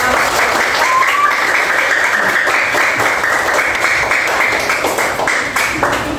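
Students in an Islamic religious education classroom break into loud, sustained applause, a dense and continuous wash of many hands clapping up close.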